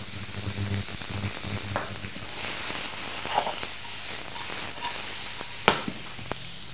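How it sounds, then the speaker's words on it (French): Shallots frying in rendered foie gras fat in a pan, a steady close sizzle with brief crackles and soft clicks of a utensil scattered throughout, no voices. "On va faire légèrement revenir les échalotes pendant 1 à 2 minutes"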